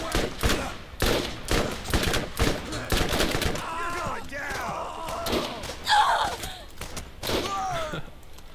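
Pistol shots ring out in rapid, punchy bursts during a Borderlands shootout, steady repeated cracks for several seconds, with players' voices talking over the gunfire.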